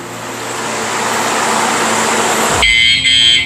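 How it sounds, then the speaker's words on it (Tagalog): A ROCKBROS bicycle alarm blares in a loud, steady electronic wail when the bike is moved, then switches abruptly to a sharper, higher warning tone near the end. "Warning yon na meron siyang alarm."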